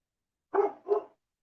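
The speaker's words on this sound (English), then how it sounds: "You hear my dog?" A dog gives two quick barks close by, short and sharp, with silence around them.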